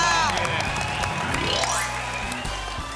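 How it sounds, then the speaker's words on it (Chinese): A game-show studio audience claps and cheers together, a dense close burst of applause with whoops, while a bright musical sound effect sweeps upward over it. "来，掌声鼓励一下"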